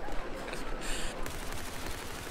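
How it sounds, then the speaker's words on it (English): Rapid gunfire crackles in Battlefield 4, a dense burst of shots fired at an enemy spawn area, loud and continuous with no talk over it. "we're actually shooting into their spawn"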